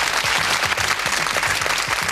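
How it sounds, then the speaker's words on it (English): A studio audience on the Going for Gold game show applauds with dense, sustained clapping that holds at an even, fairly loud level throughout. "Benny Axe from Belgium deserves another round of applause"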